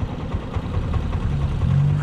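A small single-cylinder motorcycle idles close by with a low, steady, lumpy rumble that holds for a couple of seconds, with no voices.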